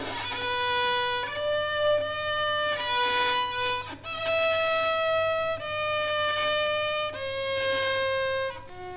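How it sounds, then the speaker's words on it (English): A beginner drags a horsehair bow across violin strings, producing a few long, wavering sustained notes with an audible scrape between them, heard quietly and alone. "borrow a violin. You'll probably make a noise like this."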